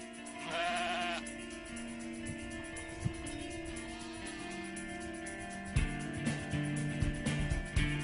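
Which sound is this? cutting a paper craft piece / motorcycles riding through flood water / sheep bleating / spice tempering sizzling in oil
sheep bleating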